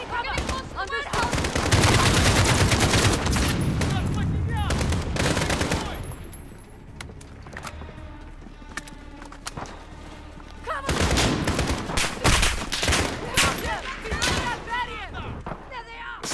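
Gunfire in a Call of Duty: Modern Warfare level with a sniper rings out in dense bursts of loud shots, thinning to scattered cracks and then flaring again, while someone talks over it.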